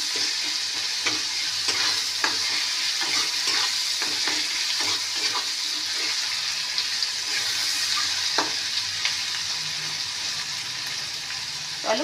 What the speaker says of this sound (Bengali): চলো পেঁয়াজগুলো এগুলো ভাজা ভাজা হোক